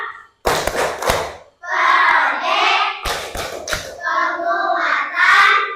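A class of elementary pupils claps in sharp rhythmic bursts between chanted lines, the group's voices rising and falling with the clapping pattern.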